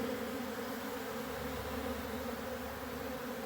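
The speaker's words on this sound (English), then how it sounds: "Just rows and rows of bees." A steady, dense buzzing of many bees at a feeder hums continuously, a close swarm with no pauses.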